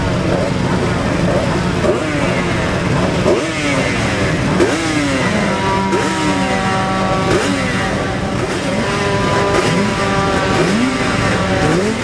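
Racing motorcycles, including 600cc Kawasakis, scream past one after another at the Senior Classic TT road race, their engines rising and falling in pitch as each bike passes close, a loud, continuous stream of overlapping passes.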